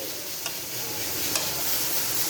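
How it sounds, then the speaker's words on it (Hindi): Fried semolina goes into pumpkin halwa and gets stirred, a continuous close sizzle and scrape with a couple of small clinks. "अब जो मैंने सूजी फ्राई करके रखी थी मैं वो इसके अंदर डाल दूँगी।"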